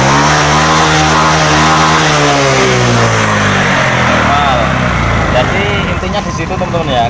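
A fuel-injected motorcycle engine, prone to stuttering just as the throttle first opens, revs hard at full throttle close by, its pitch climbing and falling in loud sweeping surges before easing off near the end.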